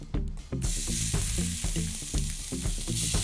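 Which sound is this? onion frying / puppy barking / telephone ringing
onion frying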